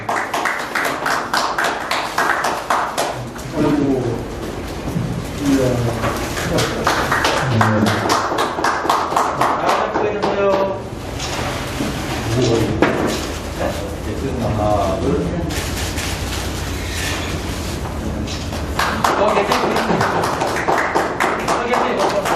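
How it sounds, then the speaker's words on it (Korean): Audience applause at an award ceremony for consulting industry contributors, rapid hand clapping continuing through the hall with speech heard over parts of it. "큰 박수로 축하해 주시기 바랍니다."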